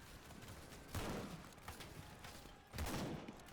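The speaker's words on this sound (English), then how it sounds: "Let's get my shitty 8mm Lebel cartridge rifle." Two heavy shots ring out from an 8mm Lebel cartridge rifle in the WWI trench shooter Over The Top, a second apart over a low, quiet battlefield ambience.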